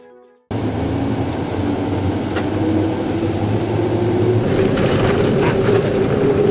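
After a brief quiet moment, a train's loud steady rumble at a station in India starts abruptly and continues, with rattling and a rising whine toward the end.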